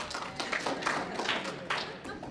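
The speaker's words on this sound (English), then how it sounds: "A smattering of applause, right?" A light smattering of audience applause at a talk on Philip Roth, quiet, thin clapping scattered steadily across the short stretch with no single loud burst.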